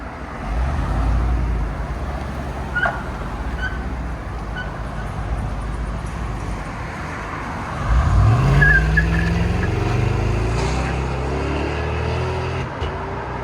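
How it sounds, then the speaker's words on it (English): A 5.3L V8 Chevy Suburban exhaust, 2015-2020, with true duals into Flowmaster 40 mufflers, rumbles with a deep, steady burble at idle, then swells into a louder rev before settling back to a throaty drone. "Suburban with true duals dumped into Flowmaster 40s"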